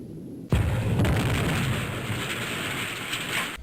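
A Harpoon missile strikes a Kilo-class submarine in the naval video game Fast Attack, a sudden loud boom followed by a long rumbling, rain-like roar that holds steady before cutting off.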